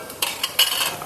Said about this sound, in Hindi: चलिए मैं इसको अच्छे तरीके से इसका लिड लगा देती हूँ, इसको घुमा के।